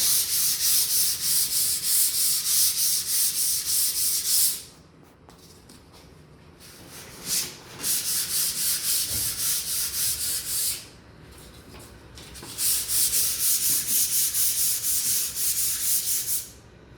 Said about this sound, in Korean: 320방 사포 반을 접어서 이 반에만 수성 이 페인트를 묻혀갖고 오시면 됩니다